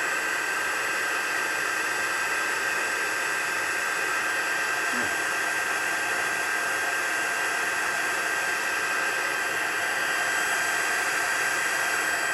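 Heat tool blowing a steady, even hiss of hot air throughout, used to dry paste on a handmade Christmas card, with no speech.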